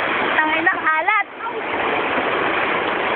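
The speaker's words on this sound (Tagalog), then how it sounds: "Grabe. Ang lakas ng alon." Strong waves splash and rush steadily in a loud, continuous wash of water, with a voice briefly heard over it near the start.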